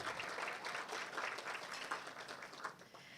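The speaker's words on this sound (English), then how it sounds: "Give them a round of applause, everybody." A round of applause from guests at a benefit luncheon, soft and somewhat distant clapping from a seated crowd, steady throughout with a few sharper claps standing out.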